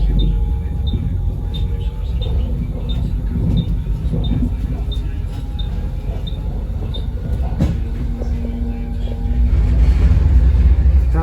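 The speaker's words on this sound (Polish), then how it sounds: "jest to pikanie, to właśnie kierunkowskaz migał" A bus turn signal ticks in a steady, regular rhythm, a small high click repeating many times over the heavy rumble of the moving bus.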